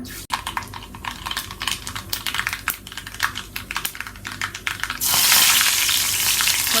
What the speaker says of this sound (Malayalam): കുറച്ച് കറിവേപ്പിലിട്ട് കടുക് പൊട്ടിച്ചെടുത്തിട്ടുണ്ട്.